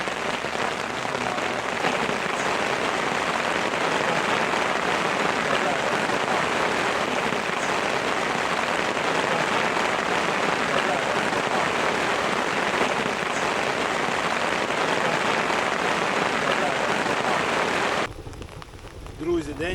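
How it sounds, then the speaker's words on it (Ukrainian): Steady rain pattering on surfaces during a weekend fishing trip in Czechia, a dense close hiss that runs loud and unbroken before stopping abruptly near the end. "пішов дощик"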